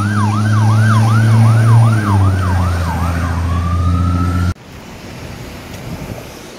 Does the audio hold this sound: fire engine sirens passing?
yes